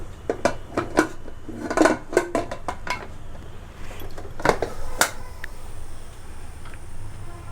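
A metal lid settles onto a pot of colostrum milk pudding (junnu) as it cooks, giving a quick run of light clinks and clatters followed by a few isolated taps, then quiet.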